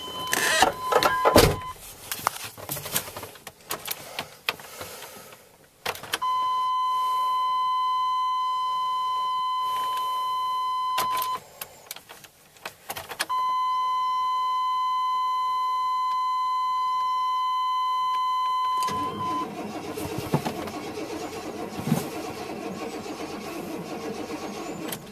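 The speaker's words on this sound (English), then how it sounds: "after a few tries, the battery died. But the truck did turn over a little bit." An old truck cranking over on a weak, nearly dead battery after its lines were emptied. Bursts of labored turning come and go around two long, steady electronic tones, with no voices.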